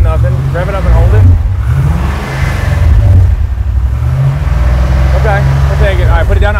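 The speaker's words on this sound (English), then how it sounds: "Rev it up and hold it." LS-swapped Chevy Nova V8 revved and held at high rpm, a loud steady engine roar that dips briefly and climbs again, with people talking over it.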